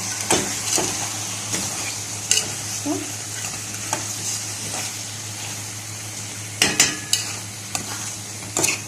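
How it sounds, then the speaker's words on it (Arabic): Okra and meat stir-fried together in a pan: a constant sizzle cut by repeated scraping strokes of a spoon across the pan, a few louder knocks in quick succession near the end, with no talking. "هشوحها مع بعض شويه، لما احس ان الباميه خدت من طعم اللحمه"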